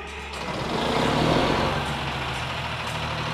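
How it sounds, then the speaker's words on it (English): A diesel generator on a hybrid diesel-electric snowplow runs with a steady, loud, continuous engine drone, close by and without talk. "So what you see behind me here is an actual generator."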